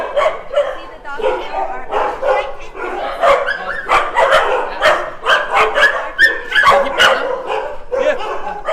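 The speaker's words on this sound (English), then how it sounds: "See the dog" Several dogs and inquisitive puppies at a dog shelter in Phuket bark and yip in quick, overlapping bursts throughout, close and loud, with people talking among them.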